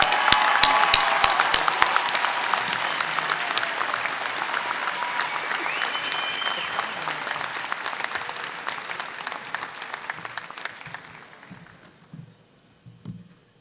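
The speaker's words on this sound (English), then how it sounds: "Please join me in applauding the graduates of the Division of Liberal Arts." A commencement crowd at County College of Morris claps for Liberal Arts graduates: loud, dense applause with a few sharp claps near the start, slowly thinning and fading to scattered claps and near silence by the end.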